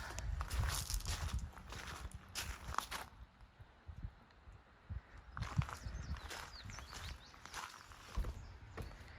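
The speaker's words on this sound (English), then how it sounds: "Stepping in the horse box." Heavy, hollow footsteps thud on the resonant floor of a 2006 Sundowner 8010 horse trailer in irregular clusters, with pauses of quiet between groups of steps.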